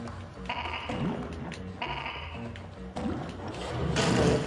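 Bleating sheep from the PS4 puzzle game Escape Plan sound in a few wavering calls against mechanical game effects and taps, moderately loud and close, with a swelling noise toward the end.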